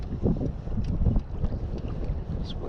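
Wind blowing across a lake during kayak fishing, a steady rumbling gusting roar close on the microphone, with faint water and boat movement underneath and no voices.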